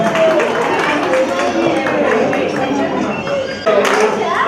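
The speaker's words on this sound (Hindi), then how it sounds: "इनके तालियां हो जाए।" A crowd at a naming ceremony claps in a dense, steady patter, with people talking over it throughout.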